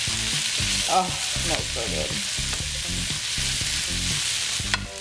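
Cooked shredded meat reheating in a hot pan for pancit noodles, a steady loud frying sizzle with rhythmic stirring strokes throughout, and a brief voice remark over it.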